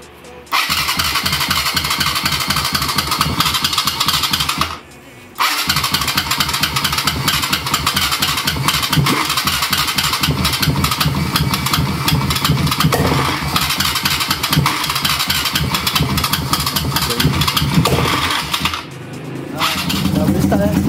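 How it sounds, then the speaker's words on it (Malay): A Yamaha X1R motorcycle converted to fuel injection and jump-started on a weak battery: the engine cranks and catches, cuts out briefly, then restarts and runs at a loud, steady idle, with a brief drop and restart near the end. "Sekarang kita nak cuba start kan."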